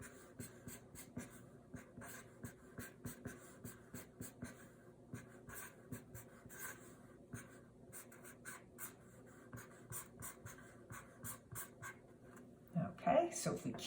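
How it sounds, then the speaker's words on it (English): A marker scratches rapidly across a board while a chemical formula is written out, faint, irregular squeaky strokes continuing for several seconds with a louder rustle near the end. "I will write that out."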